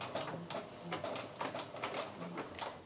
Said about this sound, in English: So I'm just going to start here and just start doing my little blanket stitch as I would normally do.